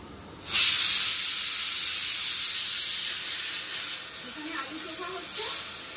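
Onions hit hot oil in a pan with a sudden loud hiss, then settle into a steady bright sizzle that eases slightly, with a voice speaking faintly underneath toward the end.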